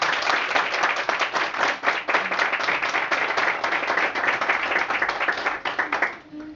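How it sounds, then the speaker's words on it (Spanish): Dense, steady audience applause at a 2014 school fashion show, many hands clapping loudly and continuously before tapering off near the end. "les pedimos otro gran aplauso para animar a nuestro selecto grupo de modelos"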